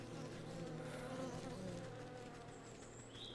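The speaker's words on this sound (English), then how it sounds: "Oh, these bees are gonna hurt me?" Steady, dense buzzing from a swarm of bees in the game Wytchwood hums continuously at close range, with a couple of faint high tonal chimes near the end and no talking.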